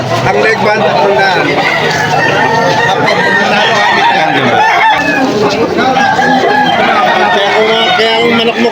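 Chickens clucking at a poultry sale alongside crowd chatter and speech, dense and loud throughout, with birds and people mixed together in an outdoor market hubbub.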